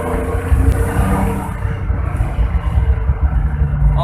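A Daihatsu Charade Turbo car engine runs steadily with a continuous low rumble and drone, close and fairly loud, throughout a short stretch without speech.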